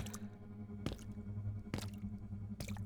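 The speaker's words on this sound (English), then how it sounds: "then keeping pace with the splashing of her boots" Boots splashing through puddles on a wet night street, three heavy squelching steps spaced almost a second apart over a low steady hum.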